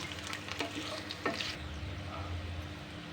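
Onion frying in a pan for mutton keema, a steady sizzle with a few sharp scrapes of stirring in the first half, fairly faint and with no talk.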